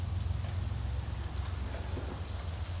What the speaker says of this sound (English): It's raining all day, and gonna rain the rest of the day till tonight.